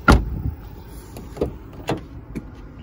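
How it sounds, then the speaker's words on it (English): Electric power driver's seat motor in a 2017 Hyundai Tucson with gray cloth seats, heard as several short mechanical whirs and clicks spaced about half a second apart, close by and moderately loud, with no talking. "Power driver's seat there."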